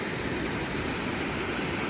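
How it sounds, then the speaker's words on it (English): Bell Falls waterfall at Bell Gorge pours in a steady, dense broadband roar, loud and continuous with no voices. "beautiful waterfall."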